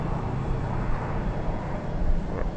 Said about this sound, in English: Plane's coming over us.